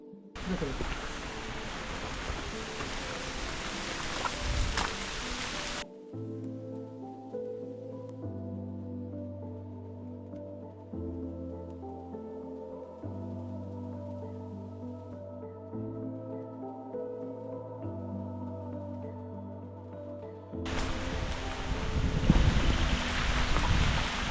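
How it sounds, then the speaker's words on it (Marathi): Strong wind and rain batter the microphone at Dategad, a hill fort in Patan, as loud roaring bursts at the start and end, with a quieter stretch of steady music in between. "भयानक पाऊस आहे भयानक"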